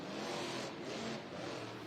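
The Earthshaker monster truck's engine roars as it drives up over the pod in a Monster Jam arena in Fresno, a steady loud rumble heard faintly in the distance.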